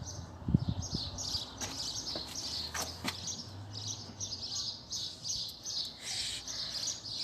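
Pigeons and other birds chirp and call repeatedly in the background from a balcony, steady high twittering with a few lower cooing notes, moderately close, with no talking.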